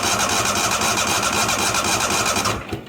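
A neglected 1998 Yazoo YTKC22 three-wheel mower with a new battery cranks over in a fast, steady rhythmic churn without catching, then the cranking cuts off near the end.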